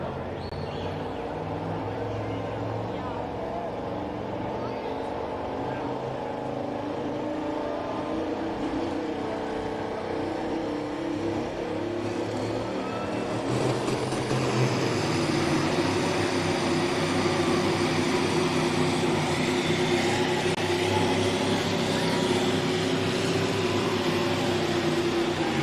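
Renee Dean's pulling truck, the Harvest Wrecker, at a tractor pull at the Cattaraugus County Fair in Little Valley, New York, its engine droning steadily then growing louder and rougher about midway, sustained for a long stretch.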